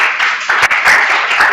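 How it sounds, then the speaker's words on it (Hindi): A class of students applauding together, a short burst of fast, dense clapping, loud and close, with no talk over it. "बहुत तेज वाली तालियां बजनी चाहिए इसके लिए"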